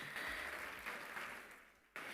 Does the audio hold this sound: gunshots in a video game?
no